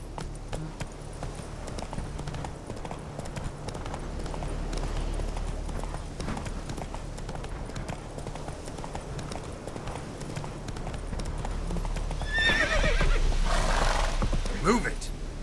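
Roach the horse gallops with steady clip-clop hoofbeats through The Witcher 3: Wild Hunt, a loud neigh breaking out near the end over continuous game ambience, with a voice speaking.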